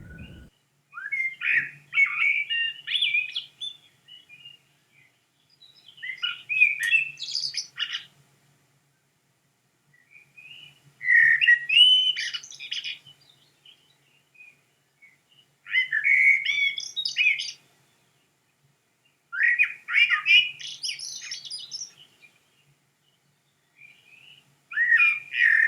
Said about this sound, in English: I'll find a recording of a blackbird as well to play for you